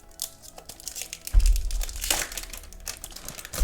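The packaging of a Weilong WR M 2020 speedcube being opened, with close plastic crinkling, rustling and a few tearing crunches that grow louder toward the end.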